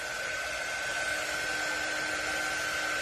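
A dryer blows steadily over a decoupage notebook craft, a loud, even whirring rush with a constant high whine running throughout, close by and with no one talking.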